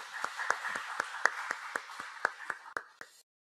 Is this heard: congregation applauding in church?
yes